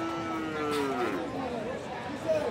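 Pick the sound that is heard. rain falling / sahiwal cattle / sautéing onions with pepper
sahiwal cattle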